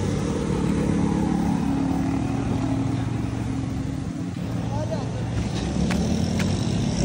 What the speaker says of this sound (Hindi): अभी ना हम लोग एक बाइक के ऊपर 4 लोग जा रहे हैं